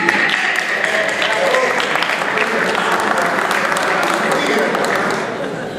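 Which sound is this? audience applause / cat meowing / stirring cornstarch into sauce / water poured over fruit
audience applause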